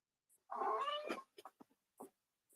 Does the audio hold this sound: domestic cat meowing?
yes